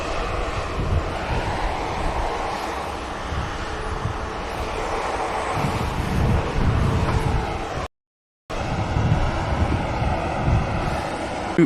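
A Hainan Airlines airliner departs Manchester Airport, its jet engines a broad sustained roar that swells and carries on with wind noise over the microphone, with one short dropout partway through.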